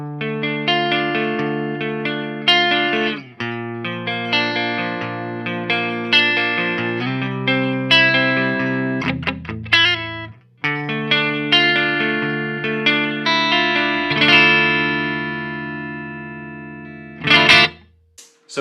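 A distorted electric guitar riff played through a Mesa Boogie Badlander amplifier, with effects and some chorus. It runs as a steady stream of chugging chords and sustained notes with brief breaks, ending in a sharp burst near the close.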